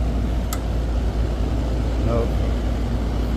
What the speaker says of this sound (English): the only thing running is the fan